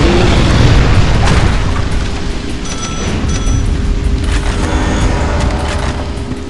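A loud, booming explosion in the video game Dead Trigger 2, with a heavy blast up front and a broad rumbling roar that lingers through the rest of the clip without any voices.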